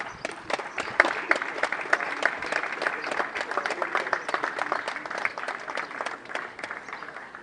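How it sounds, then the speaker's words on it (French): A crowd at a funeral gathering claps steadily and strongly for several seconds, the dense applause holding an even level throughout. "applaudir très très fort,"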